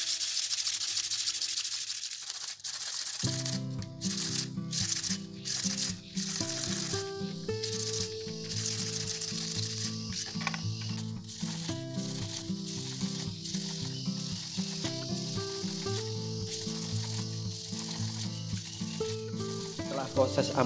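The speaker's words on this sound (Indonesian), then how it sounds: "Ampas flat itu ampas yang kita taruh di papan seperti ini." An earring is rubbed back and forth on 360-grit sandpaper laid flat on a board, giving a soft rhythmic scratching that mostly sits under steady background music.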